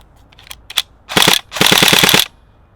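Tokyo Marui AK-47 Type 3 Next Gen recoil electric airsoft gun firing on full auto: a few light mechanical clicks, then a short burst and a longer rapid rattling burst with distinct shot pulses, loud and close, no talk.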